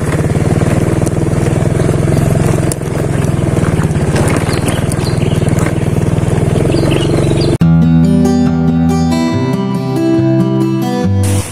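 A motorbike used to fetch livestock fodder runs loud and close with a steady engine rumble, then switches to a different, tonal sound partway through.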